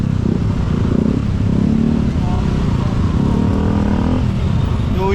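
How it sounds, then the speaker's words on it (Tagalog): A crowd of motorcycles rumbles outside, engines idling and revving in a steady low drone, with people talking close by over the noise. "Dami talaga yung mga motor nasa labas."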